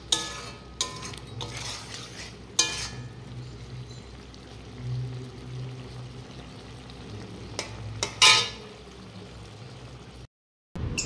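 Malabar spinach cooked with mustard paste sizzles gently in a pan, with a soft steady frying hiss, scattered clinks and scrapes of a spoon against the pan, and a brief louder stir near the end.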